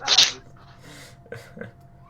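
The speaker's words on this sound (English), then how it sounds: "Bless you." One sharp, close sneeze bursts out at the start, followed by faint breathing and small rustles.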